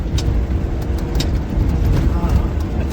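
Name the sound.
Ford Bronco V6 turbo engine climbing off-road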